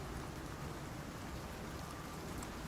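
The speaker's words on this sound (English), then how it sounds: "here comes the rain" Steady rain falls in the survival video game ICARUS, a soft continuous hiss of drops on surfaces with no talk, even and unbroken throughout.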